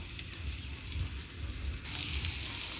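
Pork steak fries in a pan with a close, steady sizzle, hissing evenly throughout and brightening slightly toward the end.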